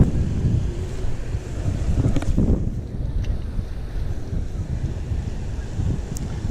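Strong wind buffets the microphone with a low, rumbling roar, steady throughout with gusty surges near the start.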